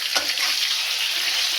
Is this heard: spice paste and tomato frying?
yes